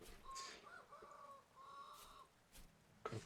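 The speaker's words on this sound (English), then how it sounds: "Cock-a-doodle-doo indeed" A rooster crows in the farming survival video game Vintage Story, with drawn-out, slightly wavering calls followed by short clucks, faint and distant against quiet ambient game sound.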